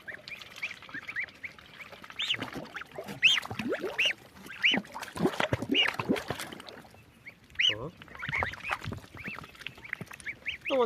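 Ducks quack repeatedly in nasal bursts, with a few goose-like honks mixed in, close by and fairly loud, with pauses between calls.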